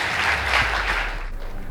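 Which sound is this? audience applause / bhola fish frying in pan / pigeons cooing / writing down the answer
audience applause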